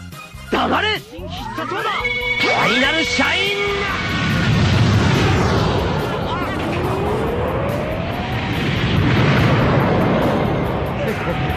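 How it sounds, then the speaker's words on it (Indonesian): A laser blast in the Dragon Ball GT anime, fired by Vegeta at Android 17: bright sweeping zaps for a few seconds, then a huge, loud roaring explosion rumble that keeps going to the end. "menembakkan sebuah tembakan laser yang menghasilkan ledakan yang begitu dahsyat"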